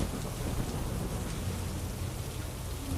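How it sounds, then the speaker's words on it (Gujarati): Heavy monsoon rain pours down in Mumbai as a loud, constant roar with a deep rumbling low end like distant thunder, continuous and unbroken, with no voices. "હાલ મુંબઈમાં ભારે વરસાદ વરસી રહ્યો છે"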